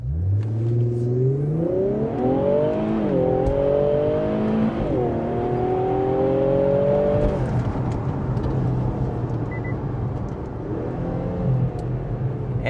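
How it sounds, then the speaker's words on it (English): A 2022 Infiniti Q60 Red Sport 400HP launches hard from a standstill in Sport Plus mode, its engine note climbing loudly through several rising gear pulls with brief dips at the shifts, then settling into a steady cruising drone. "it's time to do our traffic light Grand Prix acceleration test"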